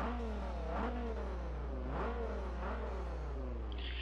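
A Dodge Viper ACR in Forza Horizon revs repeatedly, its engine note climbing and falling in several smooth sweeps over a steady low drone, quiet and with no voices.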